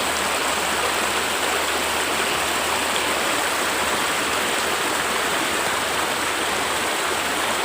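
Water flowing steadily in a stream, a continuous close rushing wash with no pauses and no voices.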